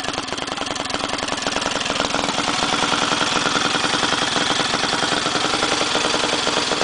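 A small go-kart engine idles loud and close, its rough, rapid putter steady and throbbing throughout with no talking.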